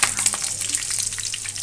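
Mustard seeds, cumin and curry leaves sizzle in hot oil for bhindi ka salan, a loud, close, steady frying hiss with a brief crackling burst at the start and no voices.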